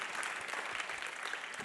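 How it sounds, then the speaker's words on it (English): An audience at a business conference session applauds, a steady, even wash of many hands clapping at moderate distance without pause. "Please give him a warm applause."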